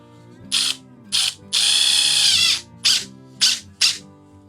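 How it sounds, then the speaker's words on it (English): A DeWALT impact driver fitted with a FLEXTORQ bit drives a screw into a board. It gives several short loud bursts of rattling hammering and one long sustained run, close up, with no talking. "we'll put the screw on the end and then we'll just kind of sink it"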